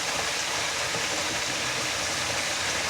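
A check-valve plumbing water pump keeps running as it pushes water out, giving a steady, even motor hum with a broad hiss of flow and no pauses.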